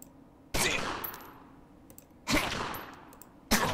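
Three separate gunshots from the gangster strategy game Omerta: City of Gangsters, each a sharp, loud crack with a decaying tail, spaced about two seconds apart, with no talking.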